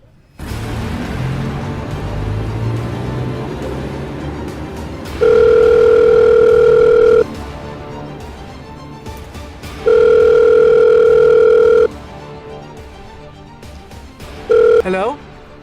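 A telephone rings for an incoming call, two long steady double-tone bursts a few seconds apart, loud and close, with background sound and a short rising tone near the end.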